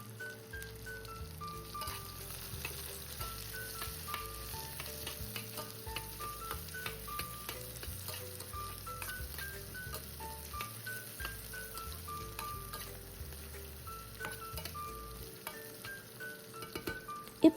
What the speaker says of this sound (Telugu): దాంతోపాటు 2 పచ్చిమిరపకాయలు కూడా వేసి మంచిగా వేయిస్తున్నాను.